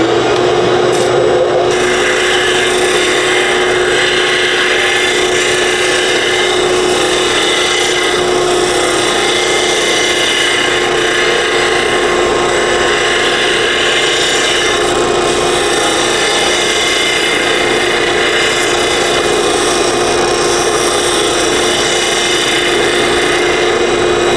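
A saw cuts through wood for a picket fence project, giving a continuous loud rasping, grinding drone that runs unbroken throughout, with no talk.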